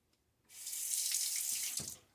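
Tap water runs steadily into a sink as a razor blade is rinsed under it, a brief hiss of flow starting abruptly and cutting off after about a second and a half, close and alone.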